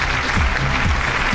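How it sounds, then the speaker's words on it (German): A studio audience at a televised beauty-contest finale claps in a brief, steady burst of applause. "Applaus"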